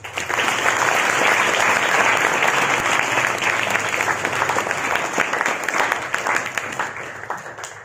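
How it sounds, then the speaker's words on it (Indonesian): Steady, loud applause fills a gathering at an Islamic sermon and prayer session, dense clapping running unbroken from start to finish with a crowd murmur beneath it. "Tepuk tangan untuk kita semua."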